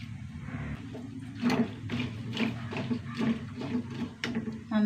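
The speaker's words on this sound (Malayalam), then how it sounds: "വെള്ളം ഒഴിച്ച് കൊടുക്കുക." Water poured into a cooking pot with chilli powder, turmeric and salt, a steady splashing and gurgling flow with uneven surges, close and moderately loud.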